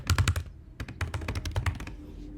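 Quick bursts of typing on a computer keyboard, close and crisp, with clusters of keystrokes separated by short pauses and no talking.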